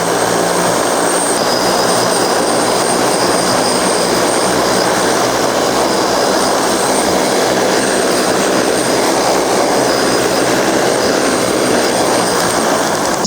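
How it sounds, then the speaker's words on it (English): A large airplane passes overhead, a loud, continuous broadband engine roar that fills the whole stretch without letup, with no voices over it. "look, there's a big plane up there"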